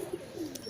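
Pigeons coo in a coop, a few short soft low calls close by in a brief snippet.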